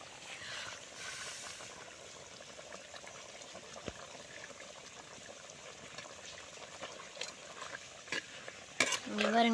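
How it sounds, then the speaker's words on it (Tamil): Quail fry bubbles and sizzles in a pan as the cooking liquid boils down, with steady frying hiss and occasional scraping stirs, close and alone, louder clatter near the end. "காடை நல்லா கொதி வந்துட்டுருக்கு. நல்லா கலக்கி விட்டுக்கோங்க."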